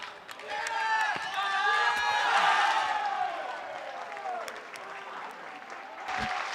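A stadium crowd at an athletics triple jump in Castellón applauds a jumper, with steady clapping that swells and fades, and a voice heard over it.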